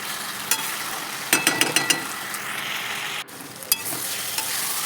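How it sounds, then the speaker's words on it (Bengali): Potato and yardlong bean curry base being stirred and sautéed in a pan on low flame, a soft steady sizzle with a quick run of spoon scrapes and taps against the pan. "অল্প আঁচ দিয়ে আমি কষিয়ে নিচ্ছি।"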